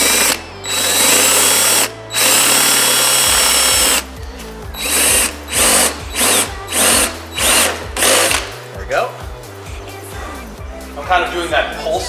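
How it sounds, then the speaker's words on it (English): A power drill with a slightly larger bit whirs at full speed, then runs in short repeated pulses, stopping and starting in a steady rhythm, loud and close. "we've gone up a drill bit size"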